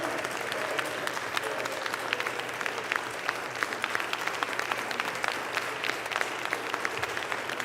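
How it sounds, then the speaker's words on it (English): An audience applauding, a dense, continuous patter of many hands clapping at a steady level throughout, with faint crowd noise underneath. "Who the fuck is clapping"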